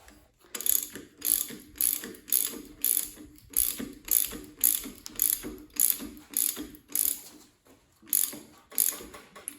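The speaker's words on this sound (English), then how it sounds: "you can pretty much just walk these things on with a ratchet, which I'm going to do now" A hand ratchet drives an ARP balancer bolt into the crank of a Ford 465ci FE tunnel port engine, producing a steady run of about fifteen close, crisp clicking strokes at a regular rhythm, each set apart by brief pauses, with no talking.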